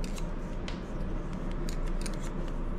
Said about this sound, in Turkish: Makasla girdiğiniz zaman tık tık.